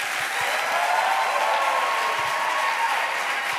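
An audience at a Christian gathering claps steadily to welcome a guest, a dense, sustained wash of applause from a sizable crowd filling the whole moment.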